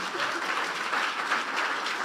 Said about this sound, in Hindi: यीशु के जलाल के लिए जोरदार तालियां बजा दें